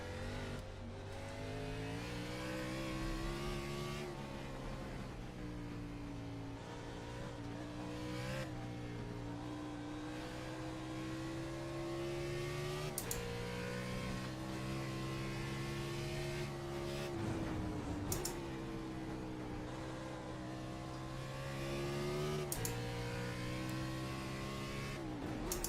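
A race car engine on a road course in the Nitro Racing game revs loudly through repeated gear changes, rising and dropping in pitch with sharp shift cuts and occasional tire noise.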